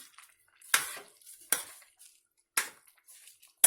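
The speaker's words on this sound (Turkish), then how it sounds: "Şimdi biraz daha karıştırayım ben." Ashure pudding stirred in a cooking pot with a metal spoon: four distinct scraping clinks against the pot's sides at an uneven, unhurried pace, with soft faint scrapes between them in an otherwise quiet kitchen.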